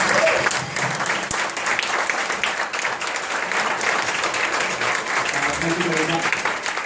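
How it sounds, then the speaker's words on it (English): An audience at a Nu Skin business meeting breaks into steady, dense applause for a speaker, with a continuous wash of clapping that holds at an even level throughout. "let's give him a round of applause"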